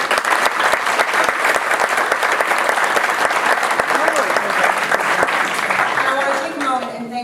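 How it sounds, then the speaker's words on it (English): Sustained audience applause fills a volunteer gala hall, dense steady clapping from a large crowd that fades near the end as a voice begins speaking. "So give yourselves a round of applause for everything."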